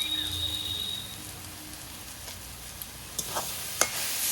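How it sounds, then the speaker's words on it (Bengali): Stirring turmeric and sugar into cooking taro leaves with a spatula, a soft steady sizzle underneath with a few sharp scraping clicks near the end. "এবার ভালো করে নাড়াচাড়া করে এটা মিশিয়ে নেব"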